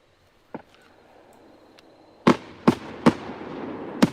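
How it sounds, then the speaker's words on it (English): Professional-grade fireworks are launched outdoors in Nagano, Japan: one faint pop, then a quick volley of sharp, loud bangs echoing across the open air. "These are pro level fireworks"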